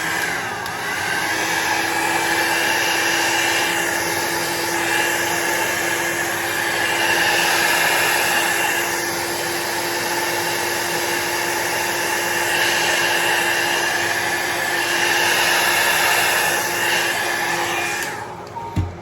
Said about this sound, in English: you can take your dryer and dry it, which I'm going to do right now to get it finished up drying more quickly